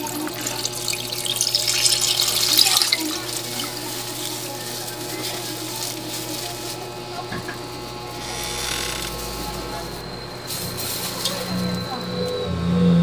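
Second-pressed coconut milk pours into a pot of vegetables with chayote for ginataang gulay, a liquid splashing and trickling near and moderately loud, with someone talking over parts of it and clinks of utensils.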